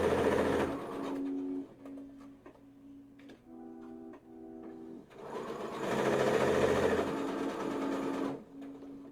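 A sewing machine stitches and backstitches a seam on a small spellbag, its motor whirring in steady runs with a rhythmic needle ticking that stops and restarts, close by and alone.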